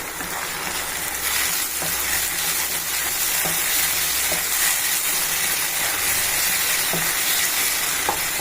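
Tomato paste fries in oil for a fish curry (vaala meen kuzhambu), giving a steady, close hiss and sizzle with faint periodic stirring taps.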